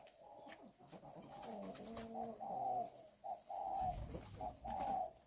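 Turtle doves cooing from a cage, repeated soft rounded coos in a rhythmic series with a low background rumble, close and moderately loud.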